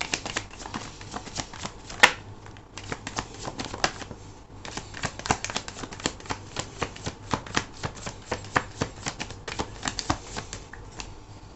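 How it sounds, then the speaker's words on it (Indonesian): A deck of tarot cards is shuffled and cards are drawn close up, producing a steady stream of crisp riffling flicks and snaps with no talking. "Kita akan ambil total 5 kartu ya untuk melihat energi kamu dulu."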